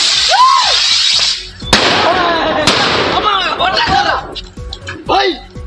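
Firecrackers are set off to drive an elephant back into the forest, giving a couple of sharp, loud bangs amid continuous crackling and bursting noise, with voices mixed in.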